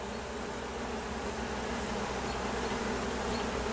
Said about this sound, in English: the bees are on top of her.